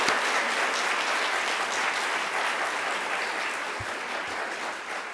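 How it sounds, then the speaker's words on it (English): Audience applause at a CreativeMornings New York gathering, a steady, dense wash of clapping that holds evenly throughout with no voices over it. "Can we get another round of applause?"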